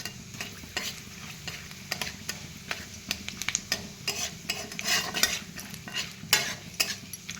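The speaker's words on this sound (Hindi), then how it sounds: "एबे मैं सुखिला मसला को पकई देबी" Dry spice masala frying in a little hot oil in a pan for cauliflower potato curry, with a rapid run of scraping, clicking spoon strokes over a low crackling sizzle, close and continuous, no speech.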